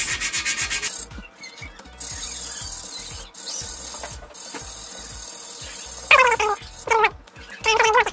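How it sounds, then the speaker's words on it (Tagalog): Repeated rasping rubs of sandpaper on an acoustic guitar nut, in short back-and-forth strokes close up, pausing between bursts, with a squeaky scrape near the end. "lilihain muna natin tong kanyang nut. Konting liha lang hanggang sa mag-fit siya."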